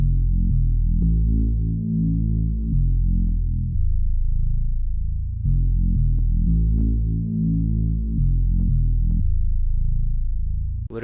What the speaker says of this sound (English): so I added this bass for my soon to come one shot kit.